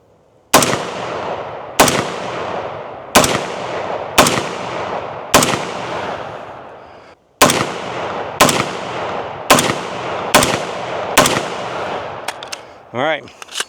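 Hi-Point HP-15 AR pistol fired at a target outdoors: eleven loud, sharp reports at a steady pace of roughly one per second, each with a decaying tail, a short pause after the fifth, then a brief rustle at the end.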